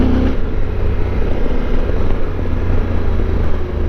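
A Yamaha Super Tenere motorcycle rolls along a fresh gravel backroad, its engine a loud, steady rumble mixed with continuous crunching and wind noise, close up throughout.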